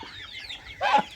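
A female duck gives a short burst of clucking, quacking calls near the end, close and fairly loud over a quiet farmyard background.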